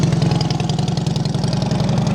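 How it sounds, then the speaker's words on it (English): Harley-Davidson Heritage Softail Classic with a 103 motor and Vance & Hines Long Shot exhaust idling close by, a loud, steady, deep loping rumble with an even throbbing pulse and no voices. "Got a set of Vance & Hines long shot exhaust added to it here."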